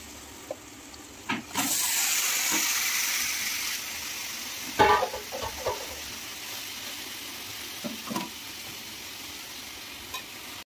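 Chicken hitting a hot pan for bamboo biryani, with a steady sizzle and frying hiss running through most of the stretch and a few soft stirring knocks on top.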